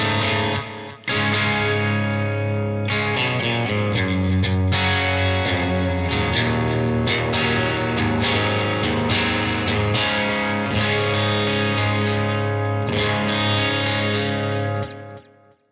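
A heavily distorted electric guitar through a Tonex amp model with the gain turned up plays gritty chords and riffs, loud and continuous for several seconds.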